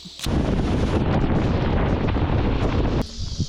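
Strong wind buffets the microphone in a loud, continuous roar by a river while bass fishing, cutting in abruptly and dropping away near the end.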